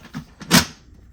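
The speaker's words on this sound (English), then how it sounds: "when you close it, it's supposed to sound like a shuttle door closing." The side door of a 2007 Alienware Predator 2 computer case shuts with a single close, solid clunk, preceded by a couple of lighter scraping knocks.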